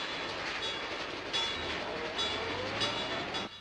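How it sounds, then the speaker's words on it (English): A train rolls past a railroad crossing in a steady, close roar of wheel clatter and rumble that carries on without pause until it drops slightly near the end. "Sounds like a railroad crossing, Bill. It is. Hear the train?"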